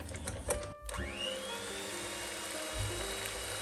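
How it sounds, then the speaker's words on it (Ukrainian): An electric hand mixer runs at low speed, whipping sugar with eggs into a foam for a caramel nut cake; a steady mid-level whir with a brief dip near the start and a low thump toward the end. "Міксер вмикаю на низькі обороти"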